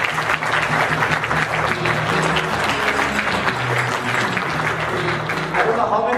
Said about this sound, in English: So I want to start with a round of applause to Ashish